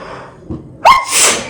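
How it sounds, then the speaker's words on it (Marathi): A single sharp sneeze bursts out near the mic, brought on by chili roasting in a pan, followed by a breathy exhale, after a quieter sniff-like sound. "तिखटाच्या शिंका येतात आणि मला शिंका खूप जास्त येतात."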